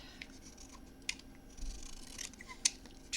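Scissors snip paper being trimmed for a handmade memory book, a few quiet, separate cuts close by with light paper handling between them and no talking.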